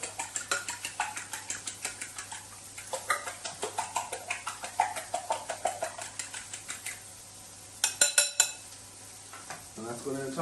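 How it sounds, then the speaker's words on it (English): A whisk beats eggs for a six-egg omelette in a bowl, a rapid, even clatter of metal against the sides, close and moderately loud, pausing briefly near the end. "We'll whisk up those eggs."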